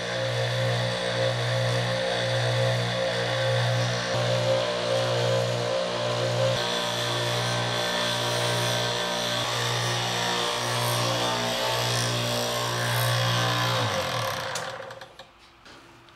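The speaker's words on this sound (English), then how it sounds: "We simply turn the machine on and wait for it to break." A fatigue testing machine cycles an additive manufactured aluminum part with its shaft deflected, giving a steady, loud rhythmic mechanical pulsing about twice a second that runs unchanged for a long stretch and then winds down abruptly at the end.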